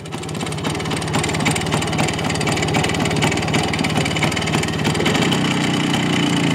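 A DKW RT 125 motorcycle engine runs steadily and loudly nearby, a continuous mid-pitched two-stroke chug with no talking over it.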